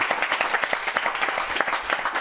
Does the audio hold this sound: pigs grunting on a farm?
no